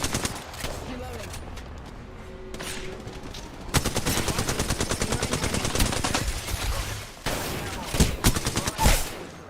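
Gunfire in the video game Apex Legends comes in rapid automatic bursts, starting quietly with scattered shots, then a long loud volley, a pause and another burst, with some speech mixed in.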